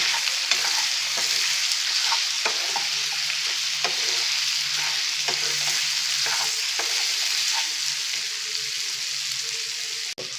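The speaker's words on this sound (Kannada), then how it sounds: "ಚೆನ್ನಾಗಿ ಸ್ವಲ್ಪ ಬೆಳ್ಳುಳ್ಳಿ ಶುಂಠಿ ಪೇಸ್ಟ್ ಹಸಿ ವಾಸನೆ ಹೋಗೋವರೆಗೂ ಫ್ರೈ ಮಾಡ್ಕೊಳ್ಳೋಣ." Garlic ginger paste sizzles steadily with split green chilies on a hot tawa for chicken tikka, a dense continuous frying hiss broken by repeated scraping stir strokes, close and fairly loud with no talking.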